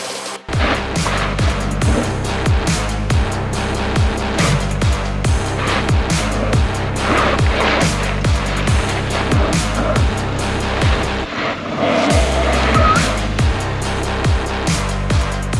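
A 2024 Lynk & Co 06, a small front-wheel-drive SUV, struggles up a steep hill-climb test with its engine revving hard in rising, falling surges and its tires slipping, loud and close, with a brief drop near the end.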